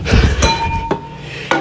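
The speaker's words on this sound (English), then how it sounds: "a glass coming off the table" A glass tumbling off a table in a quiet indoor room gives a few sharp clinks and knocks spread over under two seconds, with a thud at the start and a final bright clatter near the end.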